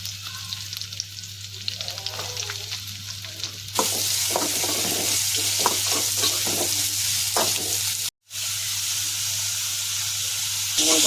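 Small and large onions sauté in a pan for mutton sukka, a continuous hissing sizzle under repeated spatula scrapes and stirs, with a low steady hum and a brief cut near the end.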